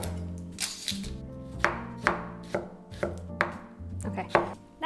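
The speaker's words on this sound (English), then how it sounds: "we'll go ahead and chop our shallots and our bell peppers" A knife chops a shallot on a cutting board in a home kitchen, a steady series of sharp, close thuds about twice a second over background music, with no talking.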